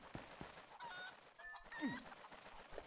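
Chicken clucking from the video game Zelda Twilight Princess, a few quiet squawks and a swooping cluck mixed with faint game sound and low background, heard at low level.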